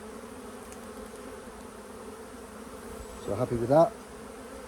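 Honey bees hum steadily in a close, continuous drone while an open hive is inspected, and a voice speaks briefly near the end.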